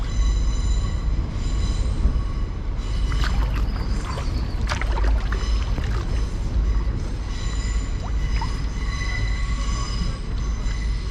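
Distant train brakes squeal in high, wavering metallic tones over a steady low rumble, rising and fading in several drawn-out bursts, heard from a river in Oxford.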